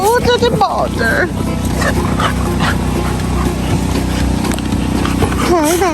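Dogs on an Alabama homestead bark and whine close by, with yelps and whimpers mixed under a person talking to them.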